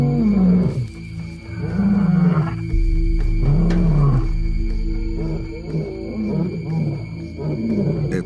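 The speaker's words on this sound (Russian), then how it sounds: "Как только львицы вернулись в укрытие, Прайд начал звуковую атаку." A lion pride in the Kalahari roars together in a loud, close chorus of deep, rhythmic grunting roars that swell and fade repeatedly over several seconds.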